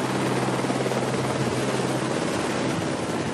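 A helicopter flies over the Diadème mountain on Tahiti, its rotor and engine giving a loud, continuous, close-sounding thrum with a rapid rhythmic chop throughout.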